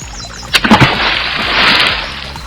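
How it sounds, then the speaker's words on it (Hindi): Frogs, crabs and turtles jump into a pond in a cartoon story, a quick burst of several close splashes followed by a longer watery slosh, with no talking. "मेंढक, केकड़े और कछुए तालाब में कूद पड़े।"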